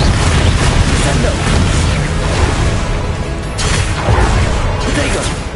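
A Descendo spell cast in Hogwarts Legacy combat lands with a loud, continuous crashing rumble and booming impact noise, thick and unbroken throughout.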